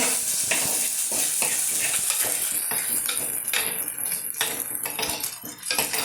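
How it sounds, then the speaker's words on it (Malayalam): A spatula scrapes and clinks against a pan as a Goan fish curry base fries with salt, with metallic stirring strokes over a soft, continuous sizzle. "നന്നായിട്ട് മൂക്കട്ടെ."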